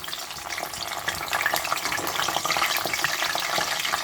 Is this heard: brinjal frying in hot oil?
yes